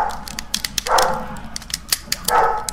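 Dog barks a few times nearby, two strong barks over a busy background of clicking and tapping.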